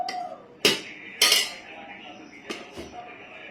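Metal spoon clinking against a pot while cooled pickle spice mixture is stirred in, with a few sharp scraping clanks spaced irregularly, close and fairly loud, and no talking.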